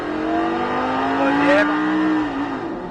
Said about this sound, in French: On reprend l'accélérateur et là on peut se faire plaisir.